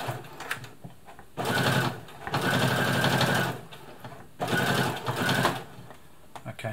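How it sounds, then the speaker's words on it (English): A Brother Extra Tough sewing machine stitches through three layers of denim in two sustained bursts of rapid, rhythmic needle chatter, separated by short pauses with light handling noise, all heard close up. "it's absolutely no worries whatsoever as far as punching the needle through the denim"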